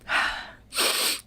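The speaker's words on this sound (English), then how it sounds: "I can hear you sniffle." Two sharp, breathy nasal sniffles follow each other closely, each lasting about half a second, with no talk.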